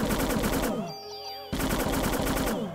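Rapid automatic gunfire in the Parasite Eve video game rattles in loud, tightly spaced bursts, breaks off briefly into a ringing electronic effect, then resumes with another rapid volley.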